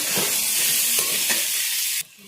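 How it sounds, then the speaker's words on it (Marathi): Boiled potatoes and chutney masala are sautéed in a pan for vada pav filling, with a close, loud frying hiss broken by a few stirring scrapes before it cuts off abruptly near the end. "आता बटाटे घालून घेऊया त्याच्यात चटणी छान अशी आता परतून घेऊया"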